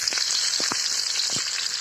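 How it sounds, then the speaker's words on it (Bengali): Glass cup fish fry in oil in a pan, giving off a continuous, close hissing sizzle with faint crackles and no talking. "বেশ সুন্দর করে কড় করে ভেজে নেব।"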